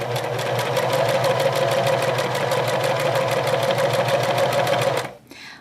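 A sewing machine runs fast and steady while it stitches long loose gathering stitches for a cottagecore skirt, a loud, even, rapid mechanical patter up close that stops abruptly near the end.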